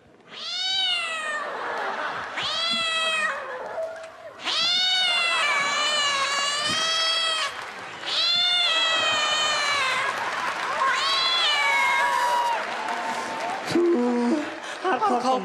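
Performers on stage at a Kazakh KVN comedy competition imitate cats with long, loud, wavering meows and caterwauls, several voices overlapping in drawn-out bursts with brief pauses between them, and a short burst of crowd noise near the end.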